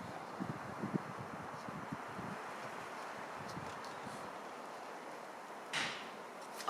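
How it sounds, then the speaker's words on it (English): Wind moves through fir trees on Skopelos, Greece, a broad, soft, steady rushing with gusty swells and a few light knocks and rustles, heard outdoors without any talking. "Wind through the fir trees."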